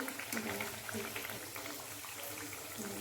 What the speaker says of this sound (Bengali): কড়াইয়ে এখানে তেল বসিয়ে দিয়েছি এই দেখুন তেল গরম হয়ে গেছে একটা কচুরি ছেড়ে দিয়েছি